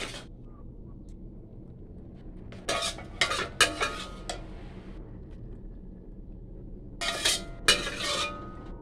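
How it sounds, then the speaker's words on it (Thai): A metal spoon scoops stir-fried zucchini with egg from a pan into a bowl, making a few sharp clinks and scrapes in two bursts separated by quiet pauses. "เดี๋ยวจะตักใส่ชาม"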